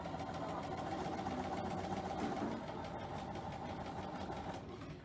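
Sewing machine stitching a 1/4 inch quilting seam, a steady continuous mechanical hum and rapid needle chatter held at an even, fairly quiet level throughout, with no talking.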